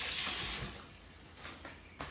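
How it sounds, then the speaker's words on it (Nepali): Dishes are washed under a running tap, a soft, fairly faint stream of water with a few light clinks and splashes toward the end. "भाँडा धुन्छु"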